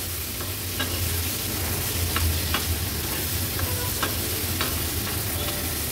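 Potato pieces sautéing in a pan for an Agri Koli style dried bombil thali: a steady close sizzle with scattered sharp spatula scrapes and taps, no voices.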